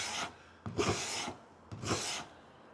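A file rasps along a woodworking scraper's edge to raise a burr, two long close strokes with a short pause between, loud and alone.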